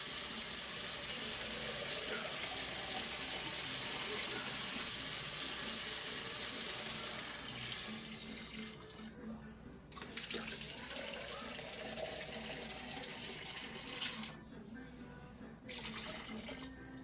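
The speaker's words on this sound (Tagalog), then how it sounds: "pwede na natin lagyan ng tubig" Water poured into a cooking pot of chicken for sinampalok, a steady faint splashing stream that runs continuously, with brief pauses near the end; no talking.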